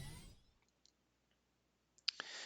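A click on the End Turn button in the puzzle strategy game Spectra Gate: faint scattered ticks after a short fading sound, then a crisp bright interface click followed by a brief chiming response.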